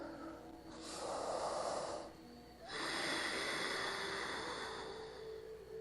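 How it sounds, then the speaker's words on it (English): Slow, loud Ujjayi breathing during a yoga class, air drawn through a constricted throat with the mouth closed, heard up close as two long hissing breaths separated by a brief pause. "You might hear me breathing here pretty loudly. This is Ujjayi breath."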